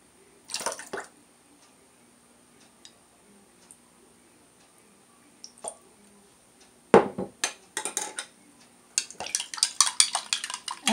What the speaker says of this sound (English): we put 2 tablespoons of water, just filtered water